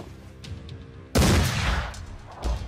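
A single loud gunshot fires in the Mordheim video game, a sharp blast followed by a rumbling decay, preceded by quieter game ambience and faint clicks.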